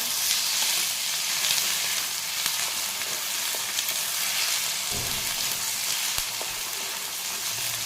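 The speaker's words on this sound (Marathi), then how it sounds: "एक चमचा लसूण पेस्ट टाकून घ्यायची ती पण चांगली परतून घ्यायची" Garlic paste added to onions frying in a pan for egg bhurji: a continuous loud hiss and sizzle of hot oil with faint stirring ticks, no voices.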